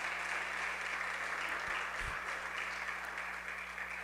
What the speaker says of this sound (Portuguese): Dê um aplauso, um grito de vitória.